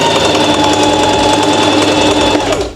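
A sewing machine runs steadily and loud, stitching cargo pant fabric in one continuous close-up burst of rapid needle chatter that slows at the very end.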